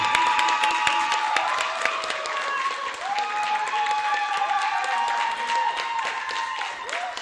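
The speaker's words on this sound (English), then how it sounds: "clap for her and cheer for that person" A large comedy club audience claps and cheers loudly and steadily throughout, a dense wall of applause with whoops rising above it.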